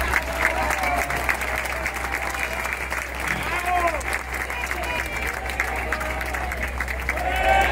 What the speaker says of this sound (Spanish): ¡Que aplaudan!